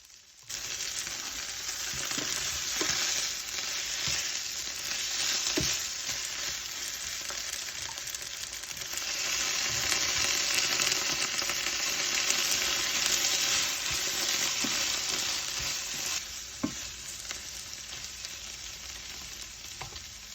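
A large batch of onions softening in a pan on the way to caramelising gives a continuous, even sizzle for about twenty seconds, with occasional soft stirring clicks and scrapes near the end; close, moderate, and no one talks.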